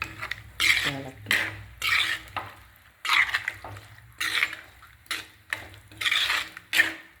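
A spoon stirs drumstick curry in a metal pot, giving a series of scraping, clinking strokes about once a second, close and fairly loud, with no voices.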